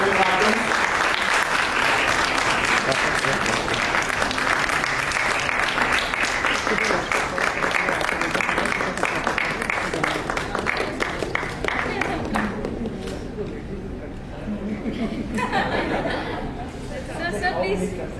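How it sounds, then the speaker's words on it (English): An audience claps loudly and continuously during a cake ceremony at an Institute of Actuaries of India event, with chatter and some laughter mixed in. The applause thins briefly near the end before picking up again. "A huge round of applause as the cake ceremony happens."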